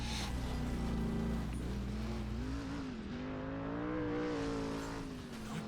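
A tiny Aston Martin Cygnet micro car drives past in Driver San Francisco, its small engine whining and shifting pitch as it passes, heard over another car's steady engine drone.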